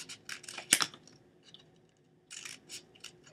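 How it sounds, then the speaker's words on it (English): Scissors cut a paper towel roll into strips in a few quick crisp snips, close and fairly quiet, with short pauses between them. "you're going to take your scissors, and you're going to cut these into strips"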